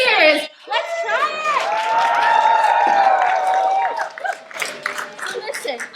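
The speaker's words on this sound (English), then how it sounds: "we ask that you make some noise, not just now, throughout the show. That means claps, hollers, cheers." A live audience at a theatre show shouts, hollers and cheers loudly all together, with scattered claps and excited voices swelling and then tailing off into looser applause.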